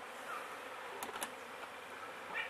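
Honeybees buzzing around their hives, a faint steady hum close by with a few sharp clicks and knocks.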